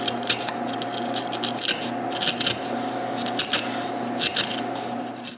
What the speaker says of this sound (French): j'utilise des ciseaux à bois pour agrandir l'intérieur de la boîte